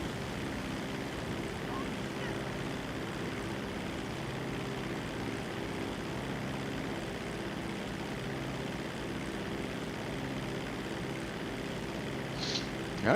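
A propeller seaplane in GTA 5 Online takes off from water, its engine a steady low drone throughout, moderately quiet, with a sharp splash-like burst at the very end.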